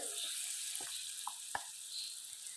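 Homemade snacks sizzle in hot oil, a steady close hiss of frying with a few small taps and clicks from a spoon, fairly quiet and without speech.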